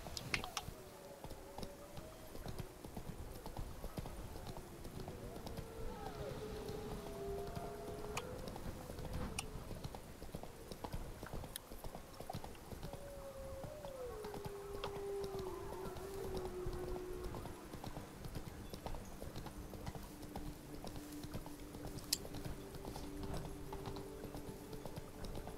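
Roach, a horse in the video game Witcher 3, gallops with steady hoof clip-clops under a soft game ambience and occasional musical tones, moderate in level and without speech.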